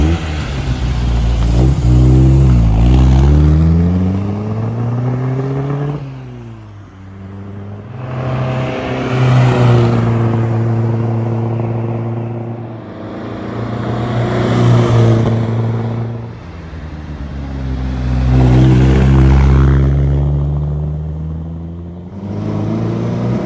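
A 1962 Triumph TR4 roars past again and again, its engine swelling loudly as each pass arrives and fading between them, with rising and falling revs across several close flybys.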